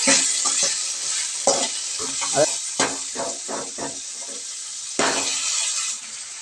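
Tomatoes softening in a pan for a tamarind gojju give a steady sizzling hiss broken by repeated stirring scrapes, while a voice talks over much of it.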